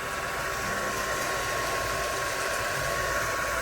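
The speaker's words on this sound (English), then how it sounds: "I'm gonna take the heat gun to it a little bit" A heat gun blowing steadily across paper junk journal pages, a loud, even, close-up rushing drone that holds without a break and carries no speech.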